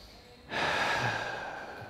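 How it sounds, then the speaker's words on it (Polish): One slow, steady breath in a held stretch, taken while in a wide side split with the thigh tensed and the leg straightened. It comes in abruptly after a quiet moment and carries on as a soft, airy exhale. "Trzy oddechy."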